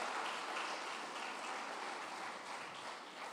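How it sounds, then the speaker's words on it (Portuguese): A church congregation applauds, a broad, even wash of clapping heard from a distance that holds steady and eases off slightly near the end. "As palmas para o Senhor."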